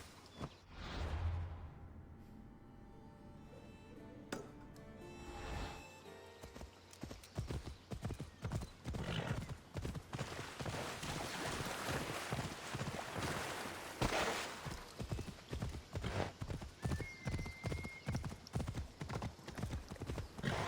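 Hooves clip-clop in a fast, steady gallop through Assassin's Creed Odyssey, with a horse neighing near the start, loud and close, followed by continuous rhythmic hoofbeats.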